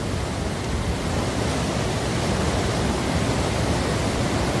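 Flood water rushing under a broken bridge that had been submerged, producing a loud, steady, unbroken roar of churning water with no voices.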